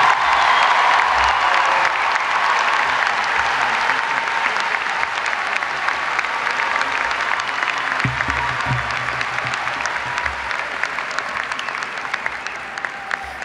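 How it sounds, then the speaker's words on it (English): Sustained applause from a large commencement crowd at a university graduation, a broad wash of clapping that holds steady and tapers slightly toward the end, with low rumbles underneath. "Another round of applause for Senator Booker, please."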